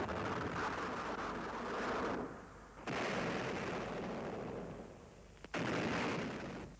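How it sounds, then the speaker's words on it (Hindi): Cannon fire as a sound effect, heavy booming blasts in repeated waves with long rumbling decay, loud and dense, with sharp new reports cutting in at intervals. "दोनों ओर से तोपें चलने लगीं।"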